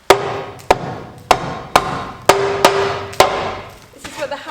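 Hammer blows knock at the bumper of a 1970s Bedford truck during dismantling: seven sharp, loud metallic strikes land at a steady pace, some ringing briefly, then a clatter follows.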